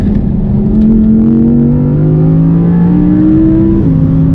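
Audi R8 with a naturally aspirated engine accelerating hard on a race track, a loud, close, continuous engine roar that climbs through the revs with a brief drop at a gear change.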